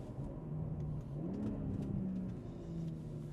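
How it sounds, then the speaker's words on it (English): A BMW M340i with a B58 engine, downpipe and resonated OPF delete, heard from outside the workshop, idles with a low steady rumble and a soft burble, a faint gentle blip rising briefly in the middle. "showcase you how the car sounds from the outside"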